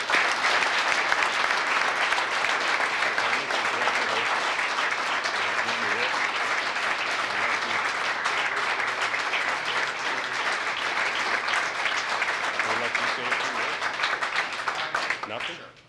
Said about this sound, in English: Let's give him a loud round of applause.